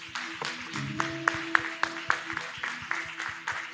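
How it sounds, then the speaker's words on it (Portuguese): Church congregation at a Thursday testimony service clapping sparsely and unevenly, a few distinct claps standing out over a soft sustained tone, fairly quiet and without voices. "aplauda o nome do Senhor, porque Ele é digno"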